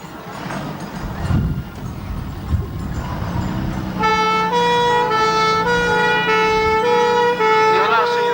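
Fire engine siren of a Whiskey 1 pump escape turning out to a workman's hut fire, starting as low rumble and toots then settling into a loud, steady two-tone wail that holds continuously to the end.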